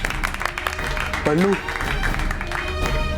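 An audience claps for a third-prize trophy winner during a children's TV fantasy episode, steady broadband applause running under a speaking voice and a brief tonal sweep.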